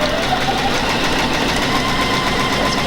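Juki DX7 sewing machine stitching: a loud, steady, smooth mechanical whir with a fine rapid ticking texture, continuous and close, with no voices.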